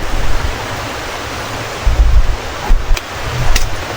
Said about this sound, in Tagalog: Malakas na yung hangin mga ka-farmers.